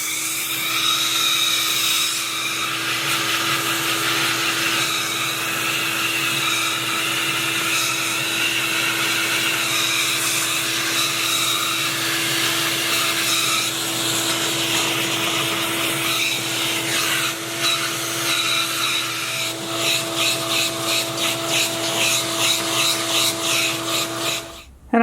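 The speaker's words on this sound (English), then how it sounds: "Or I can use the vacuum to try to clean it a little bit." A vacuum cleaner runs steadily close by, cleaning a Toyota 4Runner engine air filter, a continuous whining hum with rasping shifts as the nozzle moves over the filter surface, cutting off abruptly at the end.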